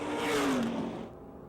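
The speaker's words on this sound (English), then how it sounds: "You like the way these sportsman cars slide around the racetrack." Sportsman race car roaring past on a speedway oval, a single loud engine pass with a falling pitch that fades as the car moves away.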